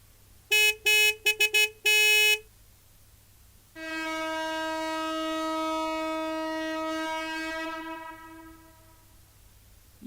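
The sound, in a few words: freighter horn honking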